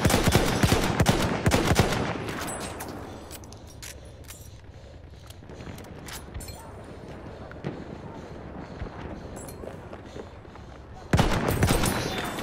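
Rifle fire in the video game Battlefield 1: loud bursts of rapid shots open the clip, quieter scattered game action follows, and another loud burst of fire comes at the end.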